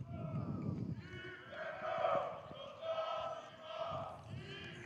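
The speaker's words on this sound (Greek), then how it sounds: "Το απόλυτο χειροκρότημα και πανηγύρι βλέπετε στις κεντρικές θέσεις του γηπέδου της Εψης Κυκλάδων." Football crowd at a stadium in Syros, Greece, celebrating a championship award with sustained applause and cheering, a steady roar of many voices and clapping rising and falling throughout.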